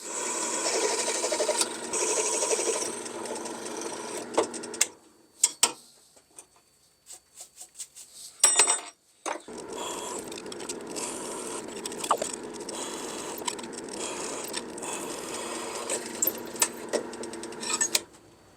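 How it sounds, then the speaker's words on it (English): A drill whirs in repeated bursts with scraping and grinding as it bores pin holes through a knife handle, interrupted by short quiet pauses and a few clicks. "let's go drill some holes for the pins"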